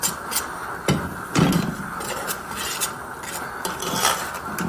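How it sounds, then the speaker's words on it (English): A utensil scrapes and clinks against a pot in irregular strokes as ogbono melts in oil, with a few sharper knocks, close and fairly quiet. "You melt it in the oil and stir."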